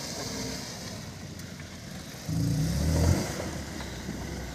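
A vehicle engine revving somewhat distantly outdoors, a low rumble that swells into a brief louder rev for about a second before settling back into steady idle.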